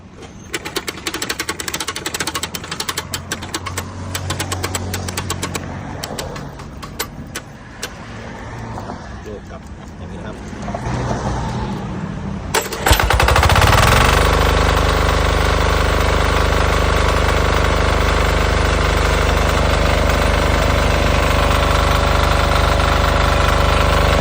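Diesel engine turned over with a hand crank: several seconds of rough cranking and knocking, then it catches and settles into a loud, steady close-up running clatter that continues to the end.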